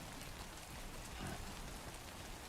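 Timefall rain in a video game pours down steadily as a soft, dense patter on surfaces, faint and continuous with no talking.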